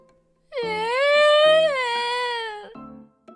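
A young boy crying hard, one long, loud, quavering wail followed by a shorter sob near the end, close and alone.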